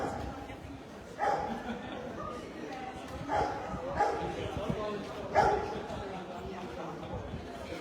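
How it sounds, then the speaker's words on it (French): A police canine unit dog barks in loud separate bursts at a distance outdoors, each bark standing out over constant street noise and people talking nearby. "il aboie fort comme d'Esther"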